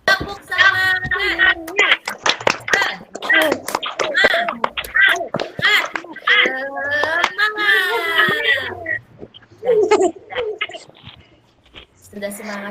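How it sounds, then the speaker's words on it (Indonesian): A classroom of schoolchildren in Indonesia doing a rhythmic clapping chant, sharp hand claps in quick patterned bursts mixed with children's chanting voices, fairly loud and close throughout. "Sebelumnya kita akan tepuk semangat dulu."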